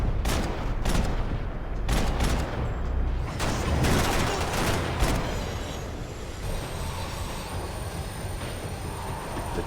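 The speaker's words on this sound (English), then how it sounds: "The tram was slowing down" A tram slowing down gives a loud rattling, clattering run of wheels on rails, then eases into a steadier rumble with a thin, high brake whine toward the end.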